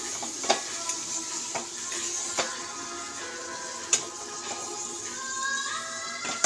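Mushroom chicken stir-fries in a pan with a steady sizzle, punctuated by scattered scrapes and taps of the spatula against the pan.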